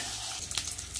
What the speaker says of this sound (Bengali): আমি মাছের মাথাটা ভেজে নিই। ইয়া বড় সাইজের দুটো মাথা, এগুলো একটু ভালো করে ভেজে নেব।